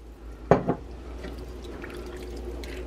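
Liquid, stock or plain water, is added to a pan of gravy, giving two quick faint splashes near the start, then a quiet kitchen background.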